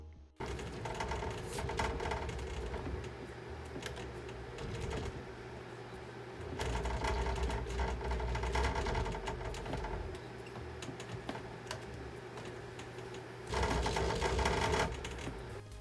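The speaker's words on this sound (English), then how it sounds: "when going over rumble strips, the base makes quite a loud racket, especially when suddenly hitting something" A Fanatec Clubsport V2.5 sim-racing wheelbase motor rattles and clatters loudly as a car runs over rumble strips. The buzzy mechanical chatter is sustained and close, swelling into louder bursts at intervals.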